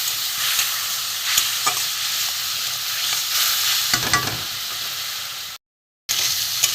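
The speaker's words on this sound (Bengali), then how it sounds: "মশলাটা ভাজবো, শুকনো মশলা একটু কষিয়ে নিই ভালো করে।" Dry spices for a fish curry frying in oil in a pan over low gas, a steady close sizzle with occasional stirring scrapes, continuous and alone until a brief cut to silence near the end.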